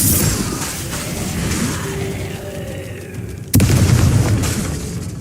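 Magical explosive spell blast from the Hogwarts Legacy video game, a sudden loud boom landing late over a steady rumbling battle ambience, following a quieter stretch of spell effects.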